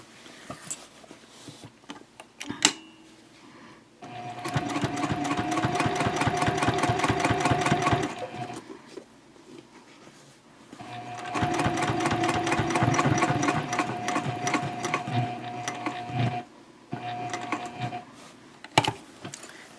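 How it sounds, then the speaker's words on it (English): A sewing machine runs twice in steady bursts, back-stitching over the starting point on a fabric eco-friendly shopping bag, close and clear, with brief pauses and clicks of handling between runs. "And now we'll stitch over where I started just to secure everything down."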